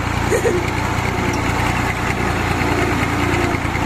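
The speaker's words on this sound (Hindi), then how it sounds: "अभी हम लोग ट्रैक्टर पे निकल चुके हैं गांव की सैर करने के लिए।" Tractor engine running steadily throughout a ride through village fields, a continuous low rumble with constant vibration and no breaks.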